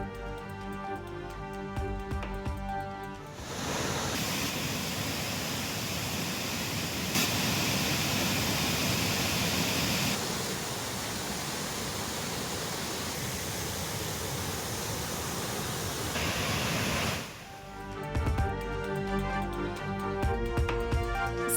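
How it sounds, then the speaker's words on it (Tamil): Thirparappu falls roars as water pours down, a steady broad rushing wash that begins abruptly, holds loud and unbroken for about fourteen seconds, then cuts away. "திற்பரப்பு அருவியில் ஆர்ப்பரித்து கொட்டி வரும் தண்ணீர்."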